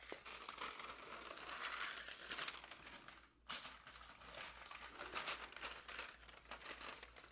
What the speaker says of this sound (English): this is like basically parchment paper